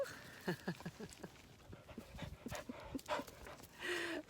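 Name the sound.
dog panting while coming up to greet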